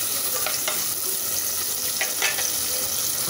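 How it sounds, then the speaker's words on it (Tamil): Small shallots sautéing in a pan for mutton curry, a dense continuous sizzle with occasional stirring scrapes, close and fairly loud, with no talk. "இந்த வெங்காயத்தை நல்லா வதக்கிக்கலாம்."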